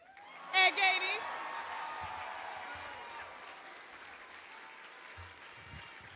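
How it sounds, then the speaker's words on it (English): A rally crowd applauds the mayor, Ed Gainey, with a burst of whoops and cheers at the start, then steady clapping that gradually fades, low and somewhat distant. "can we give a round of applause one more time for my mayor, Ed Gainey?"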